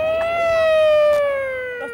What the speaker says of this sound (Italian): Ambulanza!